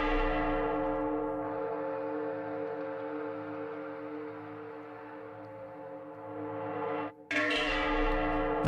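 Exotic metallic bell-like percussion from the Shin Megami Tensei V video game soundtrack rings in sustained, layered tones for about seven seconds, cuts out briefly, then returns with a bright struck hit.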